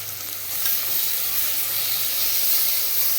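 Tomatoes and green chillies sizzling in a pan with frying onions, a loud, dense, continuous hiss that swells slightly after the first half second and holds steady throughout, with no voices.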